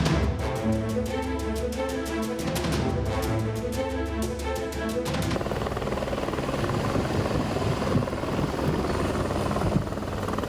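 Helicopter flying over flood-hit areas during a rescue operation, its rotor wash and engine drone steady and loud throughout, with a musical news bed layered over the first half.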